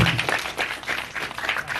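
Audience at a film gala premiere press conference clapping for Asep, a brief burst of dense, even applause close by with no talk over it.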